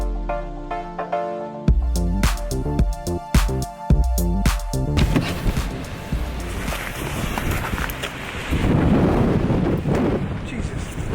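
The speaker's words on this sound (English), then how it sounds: "it always seems windier here than everywhere else" Strong wind buffets the microphone outdoors in a blustery spot, roaring and gusting unevenly and loud, with choppy bursts of sound early on before the wind dominates.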